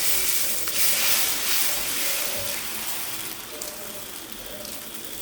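Moong dal pesarattu batter cooking on a hot oiled dosa tava, a soft continuous sizzle and crackle, close and fairly quiet, with no talking.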